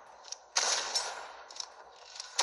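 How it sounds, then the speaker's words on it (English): Gunfire in the Fortnite video game: bursts of game shots, a sharp onset followed by repeated rapid reports at moderate loudness, with a few later spaced shots. "I am shooting these kids like it's nothing."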